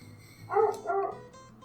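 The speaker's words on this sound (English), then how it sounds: "Sorry about the dogs in the background." Hound dogs bark twice in the background, a pair of muffled, mid-distance woofs rising out of a quiet room with faint hum.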